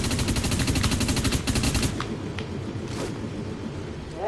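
Rapid automatic gunfire and an explosion from the first-person shooter Dust 514 rattle loud and dense for about two seconds, then give way to quieter, scattered shots and battlefield noise.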